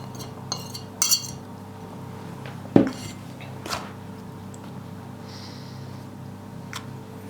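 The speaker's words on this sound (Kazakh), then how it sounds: "Енді біз шанышқының көмегімен маргаринімізді ұнға қоса еземіз бұлай" A metal fork mashing margarine into flour in a bowl, giving a few sparse clinks and scrapes against the dish over a quiet background, with no speech.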